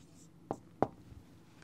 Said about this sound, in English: Look, I write.